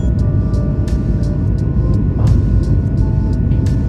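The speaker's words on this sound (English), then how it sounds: "Yes, this is an extended takeoff video clip." A passenger airliner takes off at night, its steady loud engine roar filling the cabin while faint clicks and rattles tick over it.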